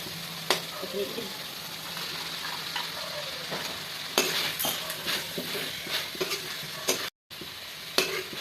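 Fenugreek leaves sizzle and crackle in hot oil, with a spoon stirring and clinking against the pan now and then.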